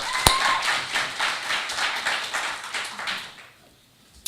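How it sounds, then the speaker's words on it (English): A conference audience applauds at a panel on the African diaspora and agriculture, a dense, steady clatter of many hands clapping for about three seconds before fading out. "So I think a round of applause for that."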